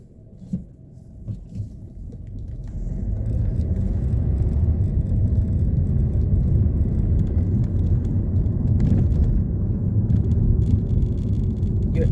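Car interior road noise while driving, a steady low rumble and whir that builds after the first few seconds and holds evenly throughout, with no talking.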